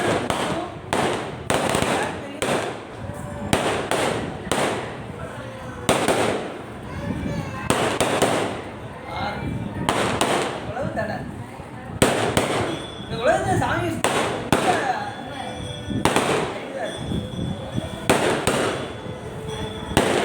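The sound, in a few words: firecrackers bursting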